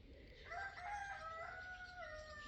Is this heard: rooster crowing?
yes